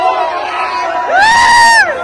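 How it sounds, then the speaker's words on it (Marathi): A crowd of boys roars and cheers loudly at a bullock race on an open ground, with one rising shout standing out over the close, dense crowd noise. "हे बघा पोरांचा जल्लोष थांबू नाही शकत आहेत"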